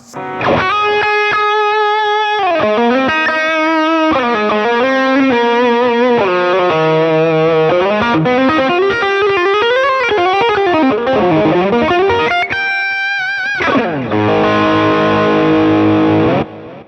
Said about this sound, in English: So it's a digital reverb, digital delay.